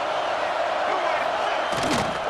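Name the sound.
stadium crowd cheering for the defense on third down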